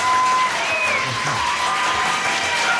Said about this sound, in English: None of our other crowds applauds at that point